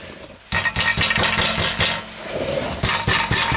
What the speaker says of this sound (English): It's rattling inside.